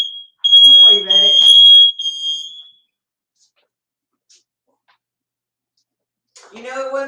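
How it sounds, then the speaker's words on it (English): A kitchen smoke alarm goes off during fish taco cooking, sounding a shrill, steady high beep for about three seconds while someone talks over it, followed by silence and then more speech. "It wouldn't be my cooking show if the alarm didn't go off."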